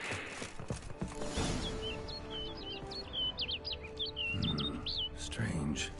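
Small bird chirping in the open-world fantasy game The Witcher 3: Wild Hunt, a quick run of high twittering notes repeated over a busy ambient game soundscape with faint hoofbeats and background noise.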